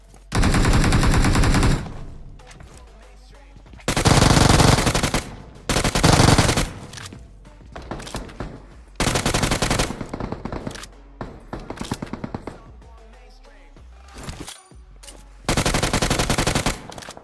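Automatic gunfire in a PUBG-style battle royale mobile game, several loud bursts of rapid rifle fire separated by short quiet gaps, close and sharp.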